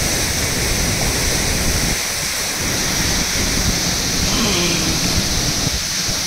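Banjhakri Falls in Gangtok, Sikkim, with clear water pouring down in a constant close roar of rushing, splashing flow that never lets up.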